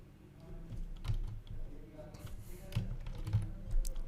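Fingers type a test card number, cardholder name and CVV on a computer keyboard for a payment form. Close, quick key clicks come in uneven bursts.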